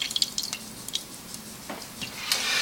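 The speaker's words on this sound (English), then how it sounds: "until all this little bubbling and crackling stops" Butter simmering at low heat in a pan for clarified butter gives a faint, continuous hiss with scattered small pops and crackles, close by and without voices.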